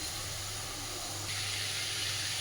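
Water lily stems (shapla) fry in a pan, giving a soft, continuous sizzling hiss that brightens slightly partway through, heard close with no voices.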